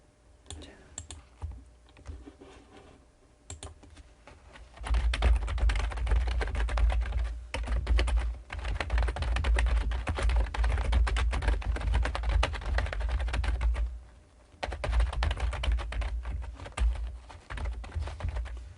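Computer keyboard keys clatter in quick, dense bursts while a footnote is entered in a word-processing document, with a few short pauses between runs of rapid typing.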